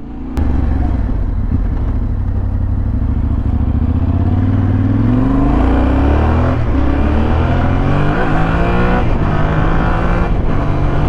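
A 2022 Yamaha Tenere 700 T7 motorcycle engine under way, loud and close, with a low steady drone that rises in pitch as the rider accelerates through the gears, no voices heard.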